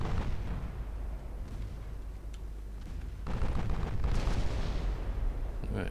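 Naval 8-inch gunfire in the video game Ultimate Admiral Dreadnoughts, with deep booming blasts and rumbling over a continuous low roar, growing heavier toward the end.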